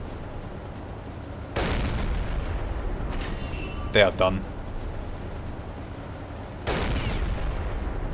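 Deep booming explosions roll out aboard a burning, sinking ship in the submarine game Silent Hunter 3, several heavy blasts spread across the stretch with a sharp crackling burst in the middle, while someone speaks briefly.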